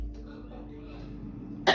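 A pet cockatoo imitates a cough: after a quiet stretch of low murmuring, a single short, harsh cough bursts out loudly at the very end.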